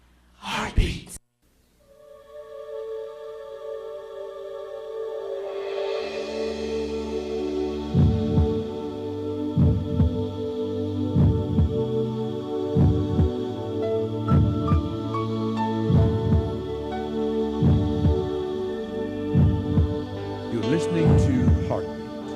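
A heartbeat thumps in a slow, regular double-beat rhythm over a steady low hum, repeating clearly after a few seconds of quieter sound.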